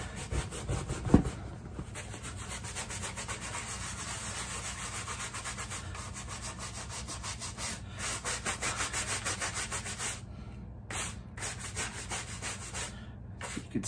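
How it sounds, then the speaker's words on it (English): A big brush scrubs the grooved sole of a shoe in steady, continuous back-and-forth strokes, a dense close-up rasping that runs on with no voices. "I take my big brush here, and I rub it in, but then I go all different directions"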